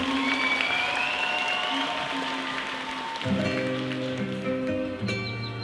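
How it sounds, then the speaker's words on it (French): Crowd applauding a Disney character cosplay group on stage at Japan Expo, sustained clapping under a music track, with announcer voice fading as the next performance's audio begins. "On les applaudit très fort"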